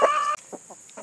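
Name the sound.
rooster clucking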